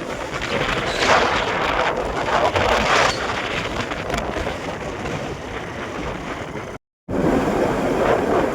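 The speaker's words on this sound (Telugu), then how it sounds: "సముద్రమే సముద్రం, సముద్రం దాడుతున్నది" Sea waves surge steadily onto the shore along the Karnataka coast, a loud, continuous wash of surf mixed with wind noise. The sound breaks off briefly near the end and then picks up again.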